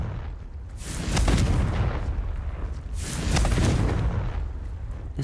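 Confringo fire spell blasts in Hogwarts Legacy, two heavy booming explosions a couple of seconds apart with rumbling tails, loud and close, no voices.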